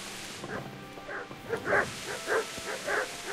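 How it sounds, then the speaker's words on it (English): Several dog barks and yips from the video game Kingdom Come: Deliverance in a loose, irregular series, moderately loud, with a faint background hum and murmuring voices. "Stop barking."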